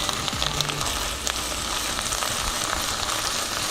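Ginger garlic paste sizzles steadily in hot oil with browned onion in a pan, a continuous loud frying hiss with a few faint scrapes from stirring.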